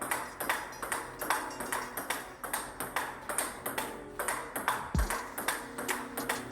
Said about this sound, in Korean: 가볍게 포핸드를 쳐보면 스피드는 빠르지 않습니다.